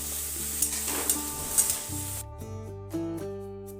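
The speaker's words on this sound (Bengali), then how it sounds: "তো প্রথমে অল্প তেলে শামুকগুলোকে ভেজে নেব।" Snails fry in a little oil with a close, steady hissing sizzle and stirring, which stops midway, leaving soft background music.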